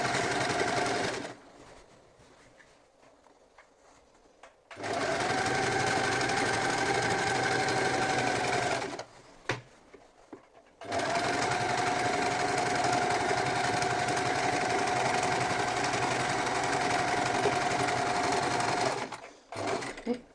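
A sewing machine stitches bias binding around rounded fabric edges, running in long steady bursts with a buzzing mechanical whir, separated by quiet pauses and brief stops, close and loud.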